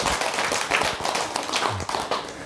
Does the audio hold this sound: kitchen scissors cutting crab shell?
no